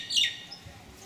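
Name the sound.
birds chirping in Mauritius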